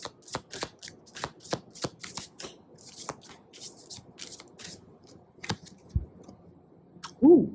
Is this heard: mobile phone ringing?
no